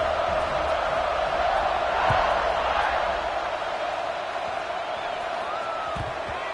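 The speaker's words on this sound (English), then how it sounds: "this crowd is buzzing after that last score." A college football video game stadium crowd buzzes steadily after a score, a dense continuous roar of many voices holding constant throughout with a few faint shouts rising above it.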